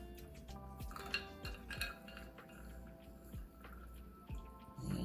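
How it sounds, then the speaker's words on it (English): Chicken pieces for fried curry chicken go into a bowl of ice water, with soft irregular splashes, drips and a few light clinks against the bowl, quiet and close with no talking. "Put it in the ice water bath."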